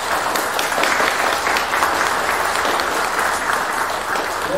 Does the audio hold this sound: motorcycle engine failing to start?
no